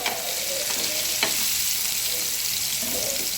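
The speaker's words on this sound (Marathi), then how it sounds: "आपल्याला असं व्यवस्थित या लसणावर फ्राय करून घ्यायचं आहे." Marinated rawas fish frying on garlic in a pan with red chilli: a loud, close, continuous sizzle and crackle with a faint stirring knock, no voices.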